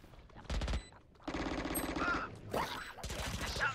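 Rapid automatic gunfire from the video game Valorant comes in three close, loud bursts of quick repeated shots, separated by short pauses.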